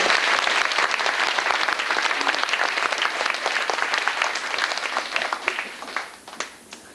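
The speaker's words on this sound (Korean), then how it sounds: "다시 한번 박수 보내주십시오" An audience at a dance performance claps loudly and continuously, a dense wash of applause that gradually thins and fades toward the end.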